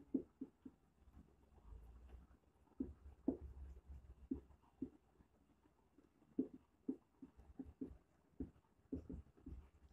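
Pen writing notes on paper, a series of short soft scratching strokes in irregular bursts, close and quiet, with faint low rumble between strokes.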